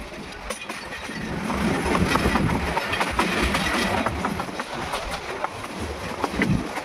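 A train rolls steadily through a tea garden, its wheels clattering over the rails in a continuous rhythmic clickety-clack with engine rumble, loud and close throughout.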